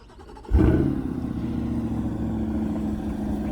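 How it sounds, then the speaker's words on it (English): A Chevrolet Corvette C8 Z51 sports car engine, remote-started, cranks and fires up with a loud burst, then settles into a steady, rumbling idle heard from nearby outside the car. "I love that it has a remote start because I like to hear the car from outside"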